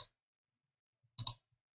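Crisp computer mouse clicks while working in Abaqus simulation software: one brief click at the start, then a quick close pair about a second later, in an otherwise quiet room.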